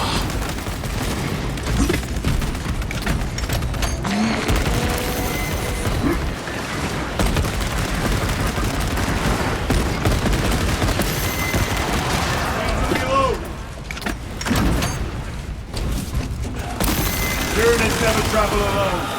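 Sustained automatic gunfire pours onto a Neurothrope in the Warhammer 40K Space Marine 2 video game, loud rapid bursts with heavy booms and creature screeches, continuous over nearly twenty seconds with occasional voice lines.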